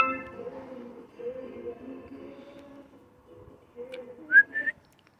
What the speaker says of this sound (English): I don't have to whistle anymore